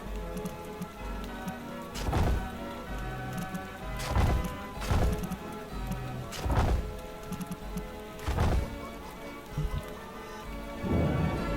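Rain falls in the theme-park building game Parkitect, a dense steady patter with several heavy crashing thuds that roll in every couple of seconds, moderately loud and without any talk.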